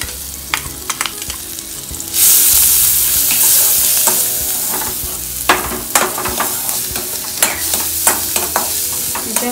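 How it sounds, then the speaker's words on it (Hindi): Onion, ginger and garlic frying in butter in a kadai, a steady loud sizzle that jumps up sharply about two seconds in, with scattered clinks and scrapes of stirring throughout and no talking. "इसे हल्का सी फ्राई करते हैं बटर में"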